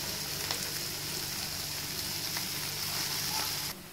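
Sliced onions sizzle steadily in a hot pan for a restaurant-style varutharacha chicken curry, a continuous soft frying hiss with faint crackles, heard alone without talk.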